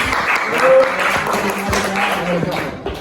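Applause from a small group greeting a presenter, a short burst of clapping heard close, mixed with voices and ending quickly.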